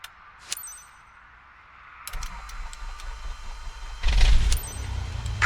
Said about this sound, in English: Why don't you start the engine for us?